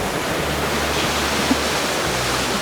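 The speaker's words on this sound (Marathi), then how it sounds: "मस्त ओढा वाहतोय ना" A stream of water flowing beside a temple footbridge, heard as a steady broadband rush with a faint low hum underneath, continuous and fairly close.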